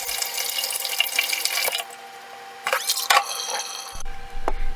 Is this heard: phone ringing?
no